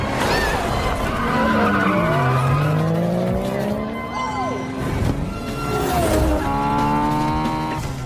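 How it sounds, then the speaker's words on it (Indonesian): Street racing cars launching at high speed with tires screeching and skidding, long wailing squeals sliding up and down in pitch over roaring engines, loud and close with a burst of revving near the end. "Sorrento bersama Jose dan Dre melaju dengan sangat kencang"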